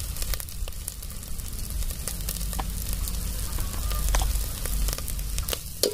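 Spices roasting in hot oil with black chilli masala for an egg curry cooked outdoors on a farm, crackling sizzle with sharp pops and spits over a low rumble, close by, no talking.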